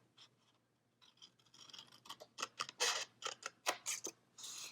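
Paper being cut with scissors for a planner, a run of quick, crisp snips that start faint and grow louder and closer, with a steady low hum underneath and no talking.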